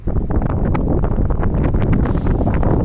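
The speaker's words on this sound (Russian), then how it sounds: "Достаточно сильный ветер у нас сегодня" Strong wind roars and buffets the microphone nonstop beside a Yanmar AF24 tractor with cab, a loud, rumbling low-frequency blast with no voices.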